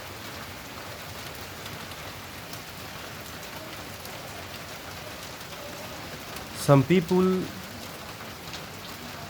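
Heavy rain pours steadily outdoors, a dense even wash of falling water heard up close throughout, with a brief burst of voices near the end.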